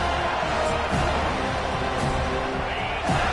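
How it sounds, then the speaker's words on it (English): Stadium crowd at a college football game roaring in a dense, continuous wall of cheering and noise, loud and sustained with a few brief whistles or shouts rising above it. "This crowd bringing an ear-splitting welcome to their visitors"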